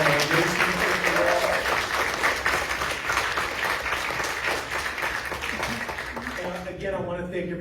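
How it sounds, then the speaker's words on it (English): An audience at a panel discussion on reparations applauds the moderator and panelists with a sustained, full round of clapping that tapers off near the end, with some voices mixed underneath. "can we give another huge round of applause for our moderator and our panelists"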